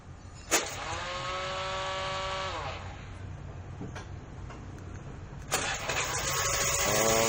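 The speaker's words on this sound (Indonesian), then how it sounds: "kita bisa dari jarak jauh pakai starter dari sini bro" A 2011 Honda Vario Techno 110 cc motorcycle started by remote with the ignition key off: a sharp click, then the whirring starter and engine catching, a short drop to idle, and a second start that runs steadily, close by.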